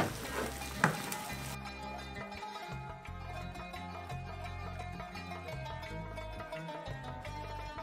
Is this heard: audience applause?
no